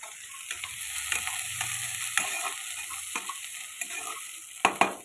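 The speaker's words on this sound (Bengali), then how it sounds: "পেঁয়াজটা ভালো করে ভেজে নেবো তেলেতে।" Onion frying in hot oil in a wok with bay leaf, a steady close sizzle with stirring clatters and scrapes of a spatula throughout, plus a couple of sharper knocks near the end.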